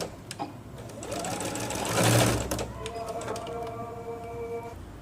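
Sewing machine stitching the back seam of palazzo trousers, running steadily at close range and swelling briefly midway, with a faint voice in the background.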